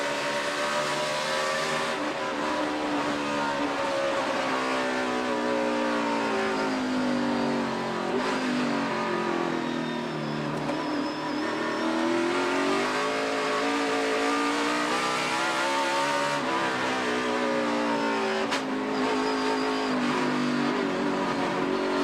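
Toyota NASCAR Sprint Cup race car heard from onboard during a lap at the Save Mart 350, engine loud and continuous, revving up and down through shifts and corners with no talk.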